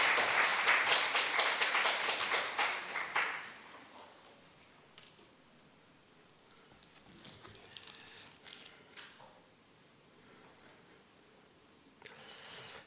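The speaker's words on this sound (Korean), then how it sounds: "박수로 환영하겠습니다." A church congregation at a Sunday morning worship service in Yanggu claps to welcome an elder to the pulpit. The dense applause is loud at first, fades out within a few seconds, and brief scattered claps follow.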